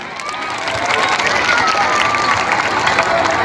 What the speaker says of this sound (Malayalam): ആര്യന്റെ ധൈര്യത്തിന് വേണ്ടി നല്ലൊരു കയ്യടി